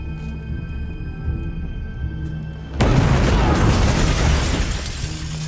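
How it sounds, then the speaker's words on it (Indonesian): A sudden loud boom bursts in after a quieter stretch of low rumble and faint tones, with crashing, shattering debris and a dense roar that lingers and slowly thins, as in an action film explosion scene. "setelah ledakan tersebut"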